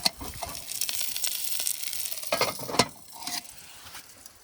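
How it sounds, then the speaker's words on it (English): Bratwursts cook in a pan at a campsite near Pike National Forest, giving a close, hissing sizzle with scraping and clattering bursts as the pan is handled. "And cooking up some brats."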